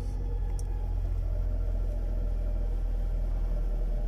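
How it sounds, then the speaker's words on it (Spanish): A Dodge Avenger 2.4 engine runs steadily just after starting, following a camshaft position sensor replacement, giving a continuous low rumble heard close up without talk. "Y vean, el carro arrancó luego a la primera."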